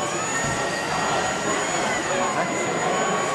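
Westpac rescue helicopter hovering overhead through a winching rescue demonstration, its rotor and turbine roar steady, loud and broadband for the whole stretch, with voices faintly mixed underneath.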